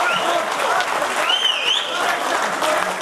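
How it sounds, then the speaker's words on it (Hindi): Audience applause at a mushaira, an Urdu poetry gathering in India, a dense steady burst of clapping from a large crowd filling the whole stretch with a loud, even roar. "देखिए तालियों तक पहुंच गए हैं"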